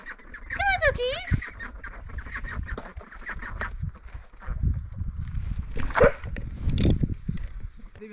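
Ducks quack and chatter nearby in a lively burst, with birds calling and a person's voice mixed in.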